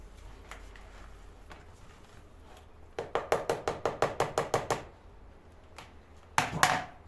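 Potatoes are mashed in a bowl for potato-and-cheese gözleme, with a rapid series of about ten close knocking thumps followed by a couple of heavier strikes, amid quieter scraping.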